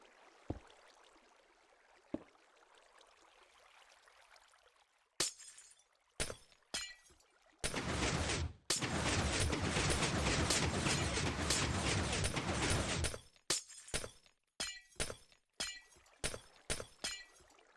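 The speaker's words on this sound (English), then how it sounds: "after we take out all the glass" Glass blocks broken one after another in Minecraft at an automatic kelp farm, sharp shattering crunches in quick bursts, with a long unbroken stretch of dense clatter in the middle and faint clicks between.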